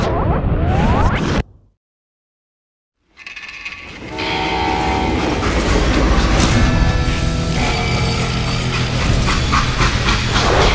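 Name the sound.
freight train in a video game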